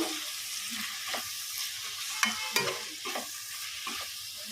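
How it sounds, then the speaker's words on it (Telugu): Chopped tomatoes being stirred into a frying gokarakaya curry, a steady sizzle with several scraping stirs of the spoon against the pan, close and fairly quiet, no voices. "ఇప్పుడు టమాటాలు వేస్తున్నా ఒక మూడు టమాటాలు మంచిగా కోసుకున్నా ఇవన్నీ వేసి ఇట్లా మంచిగా మిక్స్ చేసుకోవాలి"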